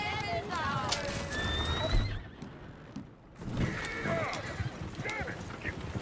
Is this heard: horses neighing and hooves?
yes